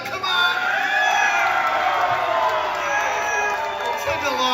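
Audience at a live band's final concert performance cheers and whoops, a loud, sustained crowd roar with shouts and whistles that fills the whole stretch.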